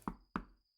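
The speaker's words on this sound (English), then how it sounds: "After a few moments, I hear him knock on the door." Two sharp knocks on a door, a sound effect from the visual novel Echo, evenly spaced and close, alone in a quiet room.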